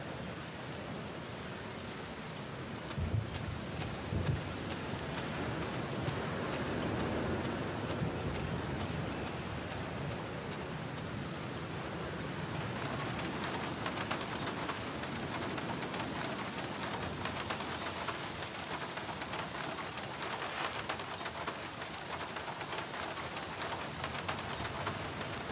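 Steady rain hisses throughout with a low rumble of thunder in the video game The Black Mirror, a dense wash of sound that grows slightly brighter halfway through, with a few soft bird coos early on.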